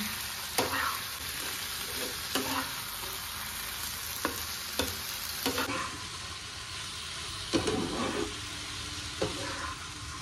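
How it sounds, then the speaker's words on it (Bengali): Salt-and-turmeric-marinated fish is stirred into fried spices in a pan with a steady sizzle of frying, while a utensil scrapes and taps in irregular strokes, close and without talking. "মাছটার সঙ্গে মশলাটা এবার ভালো করে আমি মেখে নিচ্ছি।"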